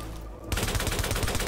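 Automatic gunfire in the video game The Division, a loud, rapid burst of steady repeated shots erupting suddenly after a brief lull and continuing without pause.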